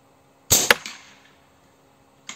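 A single sharp crack from a gun using the Slug Monster kit and Fiora 600mm barrel, close and loud with a fading ring, then the start of another shot at the very end.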